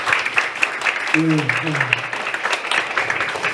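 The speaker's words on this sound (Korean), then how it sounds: "여러분 큰 박수로 맞이해 주시기 바랍니다" An audience at a Seoul city agreement ceremony applauds to welcome the mayor, a steady clatter of many hands throughout while someone briefly speaks over it.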